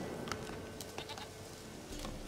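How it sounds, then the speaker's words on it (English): Goat bleating in The Witcher 3, a faint, wavering call over steady background noise. "Trying to remember if the sound of the goat is spatially arranged"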